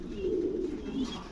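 Pigeons at a large pigeon farm in Faridpur, Bangladesh give soft, low, rolling coos, two murmuring phrases heard close against a quiet background.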